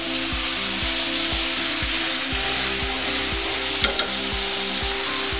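Minced beef frying hard in a hot pan, a steady loud sizzle with a regular thudding beat of the meat being broken up and stirred, no voices.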